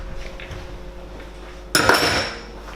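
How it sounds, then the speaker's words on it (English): A spoon scooping homemade Big Mac sauce from a bowl: quiet room tone, then one sharp close clink of metal on the bowl followed by a brief scraping rustle. "I'm going to go in with a spoon and just give it a taste"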